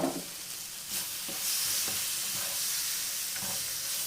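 Soy sauce splashing into macaroni pizza in a hot pan, giving a steady close sizzle with hissing bursts and light stirring scrapes throughout.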